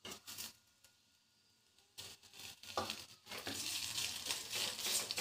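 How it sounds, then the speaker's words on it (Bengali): Boiled potatoes go into a pan of frying spices and chopped green chilli for Bengali alu chop. Soft sizzling swells after a quiet start into a steady, loud frying hiss with light stirring. "এরপর এর মধ্যে সেদ্ধ আলুগুলো দিয়ে দেব।"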